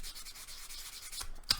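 Sanding on a Dragon 1/16 scale model kit, a close, quiet scratchy rubbing in steady back-and-forth strokes, ending in a couple of sharper scrapes, with no voices.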